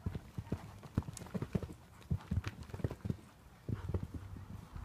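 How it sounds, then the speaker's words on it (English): Hooves of a horse clip-clopping at an uneven, fairly quick pace, close by, with brief snorting and faint background voices. "You don't need to be going that fast. He's a horse."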